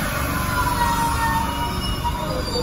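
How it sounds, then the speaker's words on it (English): A subway train at Kendall Square station by MIT, a constant loud rumble of wheels on rails with a thin high squeal running through the whole stretch. "I'll catch a train. This is Kendall Square station at MIT."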